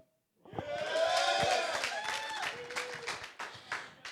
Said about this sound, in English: In as much as you're applauding